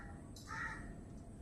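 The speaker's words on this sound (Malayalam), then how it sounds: "കുറേ കിളികളൊക്കെ സൗണ്ട് കേൾക്കാൻ പറ്റും." A single faint crow caw from somewhere outdoors in Kerala, brief and distant over quiet background hiss.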